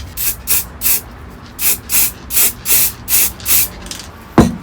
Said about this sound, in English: And also the handbrake, we're gonna spray it black.